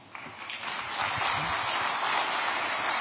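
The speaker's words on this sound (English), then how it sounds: "Please welcome him with a good round of applause." Applause from an audience welcoming a speaker at the APEC CEO Summit opening ceremony in Gyeongju, South Korea, a broad steady wash of clapping that swells after the first second and holds fairly loud throughout.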